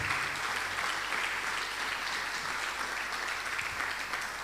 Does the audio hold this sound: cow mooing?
no